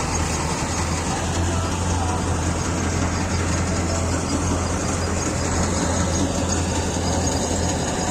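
Tractor engine running steadily in a harvest field, a continuous low droning hum with a constant broadband rumble, fairly close and unchanging throughout.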